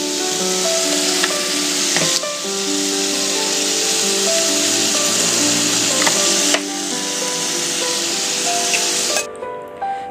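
Potatoes go into hot oil already spiced with panch phoron and a dried chilli, setting off a loud, steady, close sizzle that holds for several seconds before cutting off abruptly near the end.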